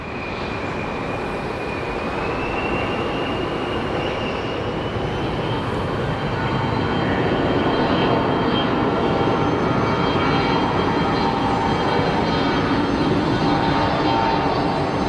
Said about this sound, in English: up next is a CRJ 700 headed to Durango